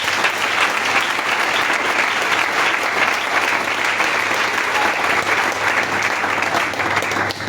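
A church congregation applauds loudly and without a break, dense clapping from a large crowd filling the whole stretch and fading slightly at the very end.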